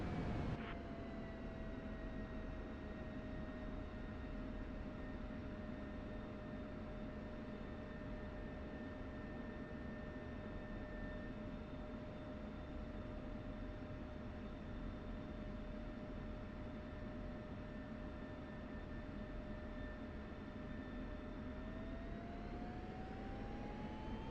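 An F-16C jet in the DCS flight simulator spools up for takeoff, a loud steady engine roar with a high turbine whine that holds level and then rises in pitch near the end, with no voices over it.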